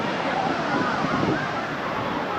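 Waterfall pouring down with great force, a dense, steady roar of rushing water that stays loud and unbroken throughout.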